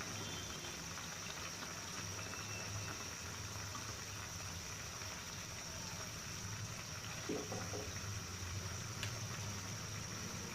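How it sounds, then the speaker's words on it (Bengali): A pot of liquid for chicken vegetable curry comes up to a boil, giving a faint, steady bubbling and low rumble with a constant hum underneath and no voices. "অপেক্ষা করছি ভালোভাবে বলক আসার জন্য"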